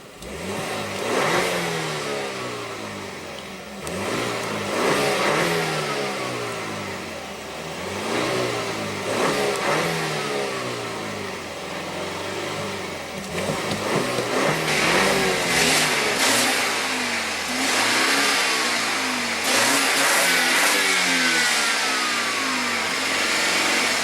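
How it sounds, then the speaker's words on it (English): A 2016 BMW X3 engine revs repeatedly, rising and falling in pitch through several throttle blips over about 24 seconds, loud and close with no talking. "let's go ahead and rev it up"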